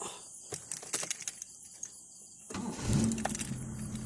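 A car with its original carburetor is cranked and starts, rough and unsteady at idle as if about to stall; scattered clicks and rustles come first, then the engine catches and runs close by for the final seconds.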